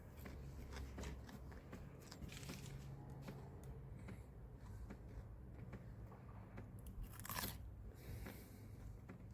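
A freshly harvested garden vegetable, rinsed in rainwater, is bitten and chewed with repeated crisp crunches and crackles close up over a low outdoor background, with no talking.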